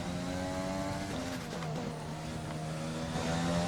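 A Formula 1 race car engine accelerating in a racing video game, a high sustained whine with shifting tones as it revs up, loud and steady with no talk.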